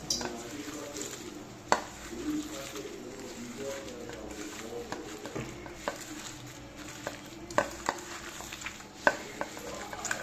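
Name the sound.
hand-mixing water lily petals into batter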